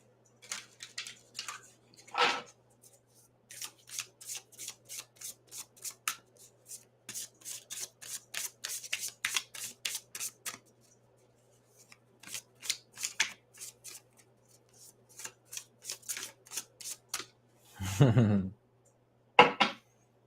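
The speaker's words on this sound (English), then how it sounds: "Let me shuffle these cards." A deck of tarot cards is shuffled in quick bursts of riffling and slapping, with a louder clatter near the end; quiet and close, with no talking over it.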